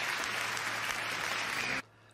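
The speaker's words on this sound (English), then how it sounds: "deserved applause right there." Audience applause after a performance on a live variety show, dense steady clapping that cuts off abruptly near the end.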